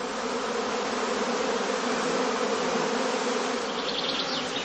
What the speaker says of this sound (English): The bees are now restless and run back and forth in the beeways.